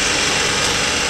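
Tractor engine labors while stuck in mud during an attempt to pull a sinking truck, a loud, constant drone with no pauses or talking.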